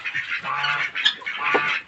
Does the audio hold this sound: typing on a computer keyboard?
no